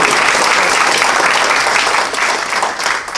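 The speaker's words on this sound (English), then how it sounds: "let's give Newsday a round of applause for The Point" At a Long Island Association event, a room of attendees gives a loud, dense round of applause for Newsday, steady and full before easing a little toward the end.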